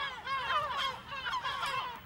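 Gulls calling on a Mediterranean island, a dense chorus of overlapping harsh, wavering cries from many birds that rise and fall continuously, moderately loud and fairly close, with no voices.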